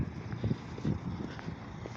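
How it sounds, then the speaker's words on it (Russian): Strong cold wind in a seaside town in winter, buffeting the microphone in low rumbling gusts that swell and fade, close and rough, with no talk. "Также ветер здесь усилился."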